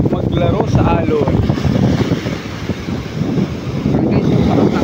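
Heavy surf rolls and crashes at Pasakaw beach with strong wind roaring across the microphone, a loud, dense wash of water that dips briefly midway, with a voice briefly heard near the start.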